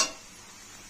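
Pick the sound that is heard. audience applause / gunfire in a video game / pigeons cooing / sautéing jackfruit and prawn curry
sautéing jackfruit and prawn curry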